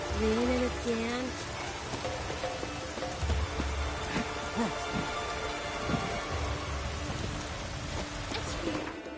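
A rainstorm in Skellige in The Witcher 3 patters steadily and loudly, with scattered droplet ticks, a low rumble and faint melodic game tones mixed in.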